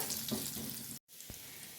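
Garlic frying in oil in a home kitchen, a soft continuous sizzle broken by one brief silent gap, with a faint clink and stirring sounds after it.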